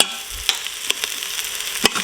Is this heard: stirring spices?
yes